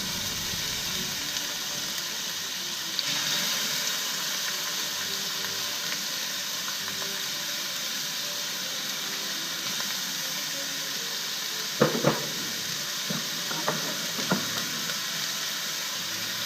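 Chopped onion and bell pepper frying in hot olive oil in a small pot, a steady low sizzling hiss throughout, with a few brief clatters of utensil against pot near the end and no talking.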